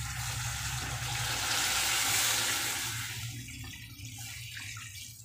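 Water pours steadily into a cooking pot of potatoes and ridge gourd, a close, rushing splash that swells and then tapers off.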